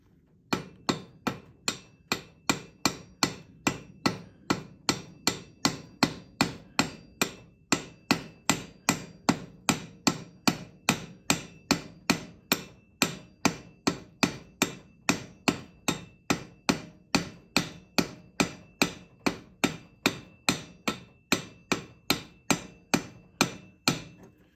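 A hammer strikes poured silver to flatten and smooth its sharp edges, a long steady run of evenly spaced, bright metallic blows, close and crisp, with no talking.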